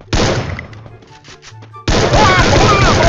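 M14 rifle gunfire in a video game, a loud burst of shots followed by a quieter stretch with a few echoing thuds, then another heavy sustained blast of fire, close and dominant.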